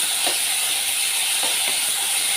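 Ground masala with salt and turmeric frying on a low flame in a pan, a steady bright sizzling hiss with a few soft crackles, close and continuous with no talk.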